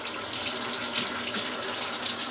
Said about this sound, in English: I'm gonna start pre-running the water